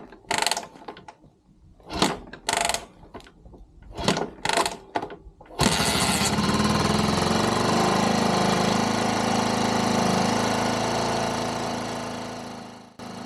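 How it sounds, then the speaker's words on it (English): Harley Davidson MT350 motorcycle kickstarted cold: several loud separate kicks, then the engine catches and runs at a steady, rough idle close by, fading slightly toward the end. "You can start it with the electric motor or the old-fashioned way using the kickstart, which is what I'm going to do here."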